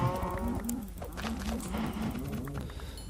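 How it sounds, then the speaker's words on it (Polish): A cow in a modded video game moos in a few low, drawn-out calls close by, over a noisy, steady background. "Jaka głupia krowa!"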